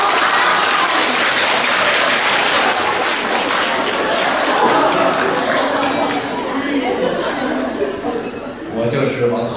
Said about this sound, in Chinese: 用热烈的掌声有请王皓月